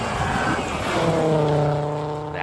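An old Mercedes drives past at a hill climb, its engine note rising then falling as it approaches and recedes, loud and close, with a sustained drone as it goes by.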